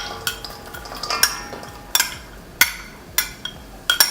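A spoon stirs diced onions and celery into chicken salad in a bowl, with soft scraping and repeated sharp clinks against the dish, close and fairly loud.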